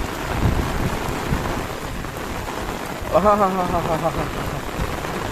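Heavy rain pours steadily outside, a dense continuous hiss heard close up from under an umbrella, with a brief voice speaking partway through.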